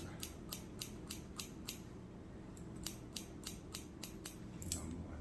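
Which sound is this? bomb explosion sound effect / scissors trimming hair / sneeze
scissors trimming hair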